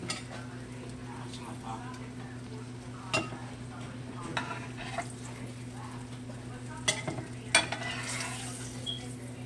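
Scrapple frying in grease in a pan on a stovetop, a steady low sizzle running throughout with occasional clinks and scrapes of a utensil against the pan, close by and at moderate volume.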